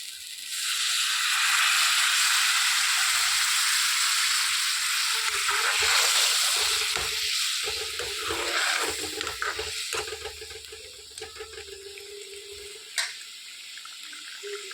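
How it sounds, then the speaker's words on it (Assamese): Water pours into a hot pan of fried spices and garam masala with a loud hiss and bubbling sizzle that gradually settles into quieter simmering and a few clinks. "পানী দিম ভাজাখিনিত।"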